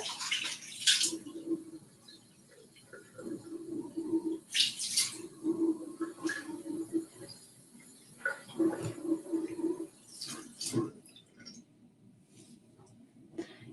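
Water from a tap splashes and runs as a face is rinsed after washing with gel, in several bursts of splashing with trickling pauses between them, close by and with no speech.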